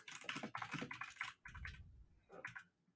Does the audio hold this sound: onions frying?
no